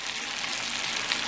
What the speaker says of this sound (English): I added 125 grams of fresh spinach. I'm just going to saute that till it's wilted